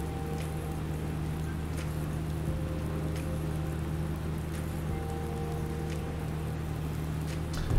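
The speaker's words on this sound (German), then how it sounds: "Ja, es regnet den ganzen Tag, ne?" Steady rain hiss in the farming game Farming Simulator 19, an even, continuous patter under a low engine-like hum throughout, with no talking.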